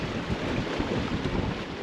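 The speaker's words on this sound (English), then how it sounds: "Quite a gust." Steady, blustery wind buffets the microphone aboard a 21ft sailing yacht at sea near chalky cliffs, a continuous rough roar with soft gusting swells and no voices.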